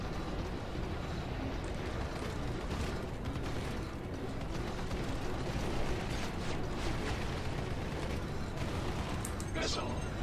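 Missiles launch and strike in the space combat game Star Citizen, a dense, continuous roar of rumbling fire and impacts over steady engine noise, with a voice talking over it.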